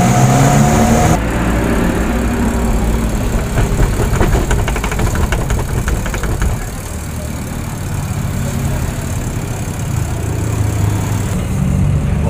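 A homemade spin dryer driven by a washing machine wash motor runs loud and steady close by, with a constant motor whir and mechanical rattle lasting the whole time and no talking over it.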